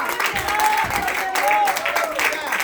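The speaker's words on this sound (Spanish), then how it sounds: "dar un aplauso al Señor" Children at a church service clap together in praise, a rhythmic patter of hands mixed with raised voices and calls over the top.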